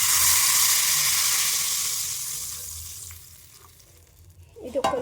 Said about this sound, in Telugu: ఇప్పుడు మనం చారు ఇందులో పోసేద్దాం.